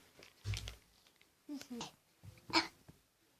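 A young child gives a few short, quiet coughs and throat noises, spaced apart, with a brief voice nearby.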